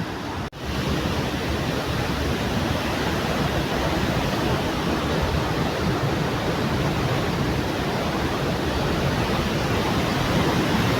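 A steady, dense roar of rushing water fills the whole stretch, continuous and loud like a nearby waterfall.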